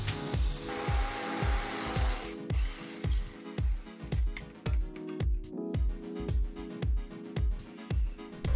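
Power drill fitted with a 3D printed dust collector boring holes, a rapid run of short repeated whirring bursts, close and fairly quiet, each pulse starting and stopping in steady rhythm.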